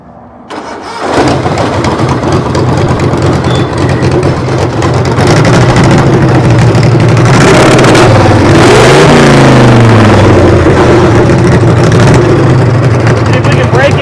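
A three-engine pulling tractor cranks and catches, then roars into a loud, steady rumble with rising revs and a swooping throttle blip midway, very close and powerful, with talk barely audible beneath it.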